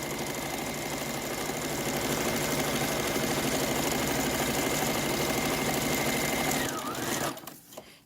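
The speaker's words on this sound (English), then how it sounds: "So don't mind the sewing machine." A sewing machine stitching a straight seam in canvas runs steadily and loudly with a fast mechanical whir, then slows and stops near the end.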